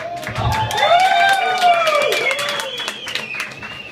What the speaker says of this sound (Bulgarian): аплодисменти за Стамбулийски